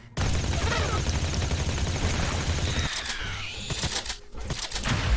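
Shotgun fire in The Riftbreaker mech shooter: dense, loud rapid blasts fill the first few seconds, then scattered shots and higher electronic effects follow.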